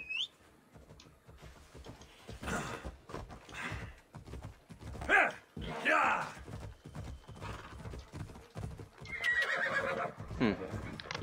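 In a video game, a horse whinnies several times over clip-clopping hooves and irregular movement noises, with a voice talking at points throughout.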